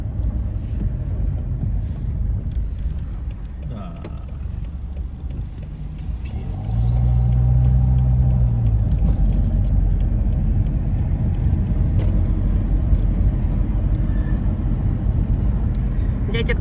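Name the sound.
car driving through streets of Cagliari, Sardinia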